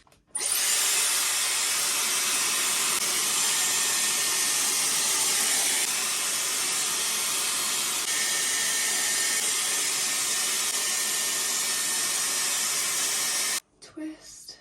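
A Dyson Airwrap hair styler blows air onto hair as a steady, loud whooshing hiss that holds for about thirteen seconds before cutting off abruptly, followed by a brief click.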